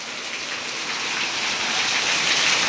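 Heavy rain pours down in a dense, steady hiss of drops hitting surfaces, loud and unbroken throughout, with no voices.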